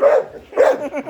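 A Staffordshire bull terrier barks at a robot vacuum, two loud, close, slightly whiny barks about half a second apart, the second trailing into a short yelp.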